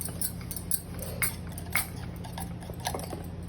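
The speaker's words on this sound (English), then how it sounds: "Stir well. I'm stirring well." Donut batter being stirred in a bowl, with a utensil scraping and clinking against the bowl in quick, fairly regular strokes, close and moderately quiet.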